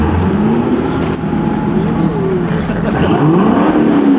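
A Corvette with a newly fitted Corsa exhaust revs near and loud, its engine rising and falling in a few swells over a constant deep rumble.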